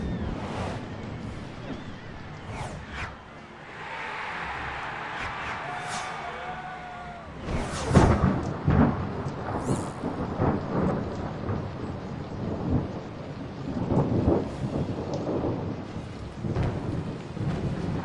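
Stormy weather in a Harry Potter 3 video game, with heavy rain pouring steadily and deep rolling thunder cracking loudly in the middle, while a voice speaks at first.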